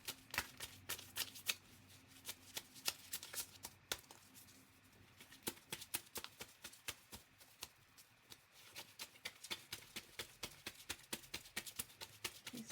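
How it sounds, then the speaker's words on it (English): Tarot cards are shuffled by hand in quick rhythmic bursts of crisp riffling taps, close and fairly quiet, with a brief pause midway before the shuffling resumes. "I don't want you to see how much I struggle like with the shuffling of these cards."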